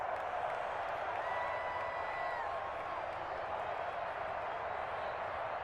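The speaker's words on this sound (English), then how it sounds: "The crowd's not doing that O-line any favors." Steady stadium crowd roar from the Madden NFL 21 football video game, a loud continuous wash of noise with faint whistle-like tones, no speech over it.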